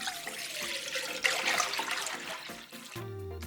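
Water runs steadily into a pot for anchovy stock, a close continuous pour that ends with a few clinks near the finish.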